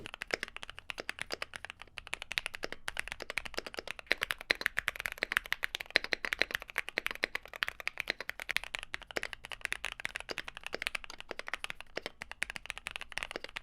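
Steady typing on a mechanical keyboard fitted with lubed and filmed Gateron Black Ink switches and PBT keycaps, a dense run of soft, deep clacks at a quick, even pace with no talking.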